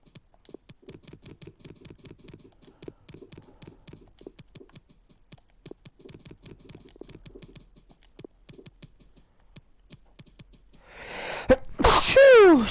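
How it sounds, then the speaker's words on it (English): Quick keyboard clicks and soft tapping run along quietly before a single loud, close sneeze bursts out near the end, followed by a brief harsh exhale. "Sorry, had to sneeze."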